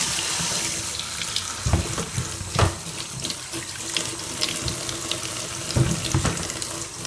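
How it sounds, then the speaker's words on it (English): Tap water runs steadily into a sink while fresh turmeric root is rinsed by hand, with a few louder splashes and knocks as the root is handled close by. "Wash the turmeric like this."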